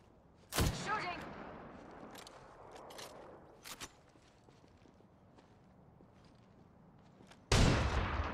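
Gunfire in a tactical shooter video game, a sharp loud burst of shots near the start, a few fainter pops midway, and another loud blast near the end over low background ambience.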